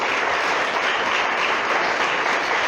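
Steady, dense applause from a church congregation in Tecpán, Guatemala, an even wash of clapping that holds at a constant level throughout with no talk over it.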